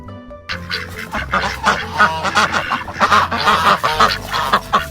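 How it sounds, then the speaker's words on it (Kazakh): Loud, repeated goose honks in quick succession, harsh nasal calls overlapping one another with no talking. "Бұл қаз. Қаз ұзын мойынды құс."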